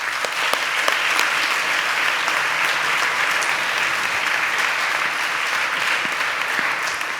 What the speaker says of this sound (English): I keep forgetting I'm not supposed to clap into the microphone